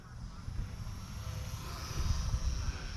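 A small XK A210 Trojan T28 mini RC model plane, 380mm, flying low past outdoors, a thin quiet motor whine rising slightly as it nears, with wind and outdoor rumble underneath.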